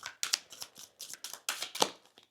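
Tarot cards are shuffled in quick repeated riffles, a crisp rhythmic flutter of paper close to the microphone.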